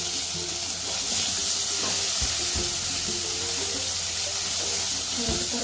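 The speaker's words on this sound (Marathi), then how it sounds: "परतून घ्यायचे आपल्याला." Ginger garlic paste and green chilies sauté in a little oil in a kadhai, a steady, even sizzling hiss with faint low clatter beneath it.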